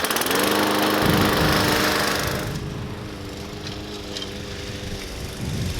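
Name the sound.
lawn mower cutting grass for a golf green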